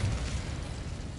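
Confringo and Incendio fire spells bursting in a mine in Hogwarts Legacy, a loud, deep rumbling explosion with a strong low-end boom that carries through briefly.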